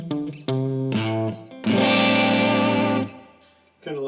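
Rob Williams Set Neck Deluxe electric guitar on pickup position 2, the two inner coils, playing a few loud, clear single notes and then a ringing, strummed chord that fades out before another note starts.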